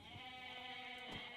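Faint sheep bleats from the video game Age of Mythology, a short wavering call that rises over a quiet game backdrop with a soft tonal hum.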